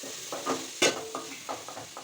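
Tomatoes fry in a pan with ginger-garlic paste for fish biryani, a soft sizzle broken by quick, rhythmic stirring scrapes of a spoon against the pan, close and moderately loud, with no talking.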